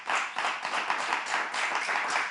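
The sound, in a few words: audience applauding and cheering the guests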